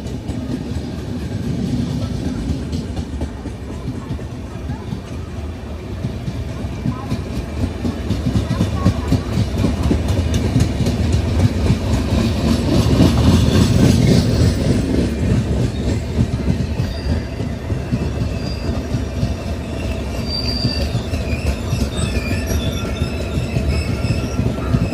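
Kollam to Tirupati Express train entering the main line, heard from on board. Wheels clatter steadily and squeal over the tracks in a loud, continuous rumble lasting the whole stretch.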